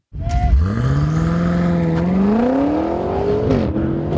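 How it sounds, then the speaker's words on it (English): A BMW M5 with torque-converter automatic on a launch control start, its engine note sweeping upward in pitch with a brief dip like a gearshift before climbing again, loud and close with no talk. "I put my foot down, I go for the launch control"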